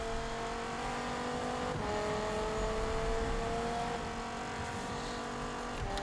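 A Dodge Viper engine in the Need for Speed racing game roars continuously, its rising and shifting tones showing acceleration through the gears.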